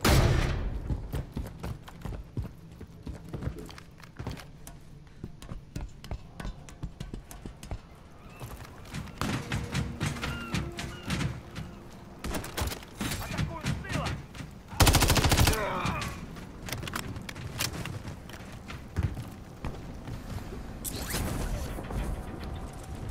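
Gunfire in the Modern Warfare III campaign, dense bursts of rapid shots crackling throughout, loud and close, with a heavier blast midway and a voice briefly speaking over the action.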